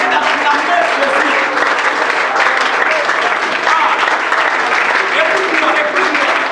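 A church congregation at a worship service applauds and cheers in acclamation of Jesus, a dense, sustained wall of clapping with voices calling out and mingling throughout.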